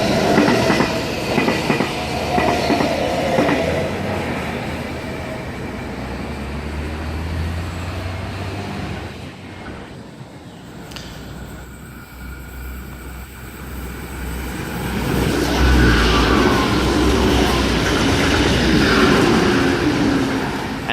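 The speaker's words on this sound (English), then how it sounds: "that was NP23, the Armadale Moray Explorer, past platform number 2" Passenger train running through a station platform at Point Clare, a loud rumbling pass with rhythmic wheel clatter that fades midway, then swells again as more carriages roll by close to the listener.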